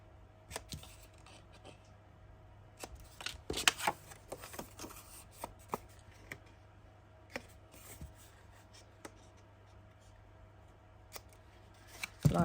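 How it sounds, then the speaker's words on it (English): Scissors make quiet, sparse snips as paper corners are cut off a handmade Halloween envelope folio, with soft handling rustles between the cuts in a quiet room. "we're just going to snip off the corners."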